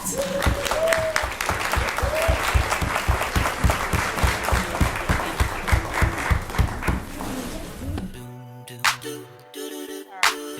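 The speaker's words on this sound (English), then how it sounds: "let's give a hand clap to none other than Ms. Tasha McDonald Scott." An audience gives sustained, fairly loud applause welcoming a guest speaker at a women's event, the claps thinning out toward the end before a voice begins speaking.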